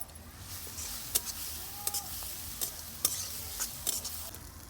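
Onion stirred into hot oil with mustard seeds, cumin, finely chopped green chilli and curry leaves for vada pav filling, giving a soft steady sizzle broken by a few sharp spoon scrapes and clinks against the pan.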